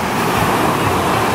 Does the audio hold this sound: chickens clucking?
no